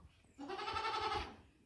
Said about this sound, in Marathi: शेळ्या सगळ्या मस्त बसलेल्या आहे.